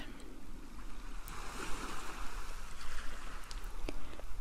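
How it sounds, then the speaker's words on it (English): Soft, steady wash of ocean surf rolling nearby, a continuous low rumble with gentle swells and no voices. "And you hear the ocean right next to you."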